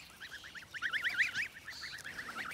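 Geese and goslings at a village give a run of rapid, nasal honking calls, several birds overlapping in quick bursts at moderate distance over quiet background.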